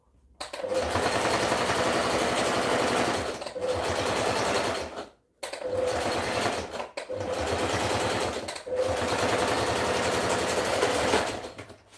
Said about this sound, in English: We are stitching it almost all the way straight up.